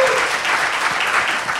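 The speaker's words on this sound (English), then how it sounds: "so give him a round of applause" A film festival audience gives a steady, dense round of applause for the interpreter at an onstage talk, with continuous close clapping throughout.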